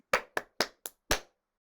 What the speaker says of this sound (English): so we need to clap our hands